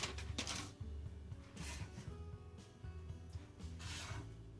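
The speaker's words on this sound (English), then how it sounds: "I'm going to cut it towards me so the salt does not drag." A knife cuts through a bar of salt soap with a few soft, scraping drags, faint and close, over a low hum.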